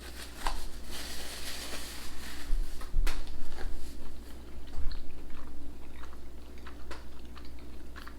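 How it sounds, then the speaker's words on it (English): Someone chews a mouthful of Yorkshire brack loaf with nuts and cheddar cheese, making close, repeated crunchy bites and soft chewing clicks at an irregular pace, with no speech. "I'm gonna have another bite of this wonderful loaf with the nuts."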